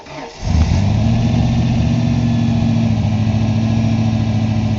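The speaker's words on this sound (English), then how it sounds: "Okay, go ahead and crank it over." 1994 Ford F150 with new spark plugs cranking briefly then catching, settling into a loud steady idle close by.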